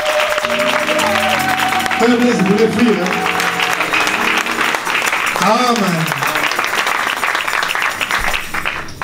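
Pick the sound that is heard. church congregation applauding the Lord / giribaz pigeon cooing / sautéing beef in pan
church congregation applauding the Lord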